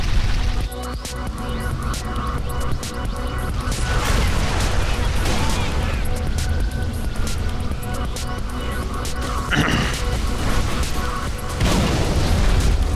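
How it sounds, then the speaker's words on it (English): Explosions in the video game Halo 3, a dense, loud stretch of rumbling booms and bursts with mechanical clatter and game score, sharp blasts standing out toward the end, with voices talking over the action. "That's an explosion."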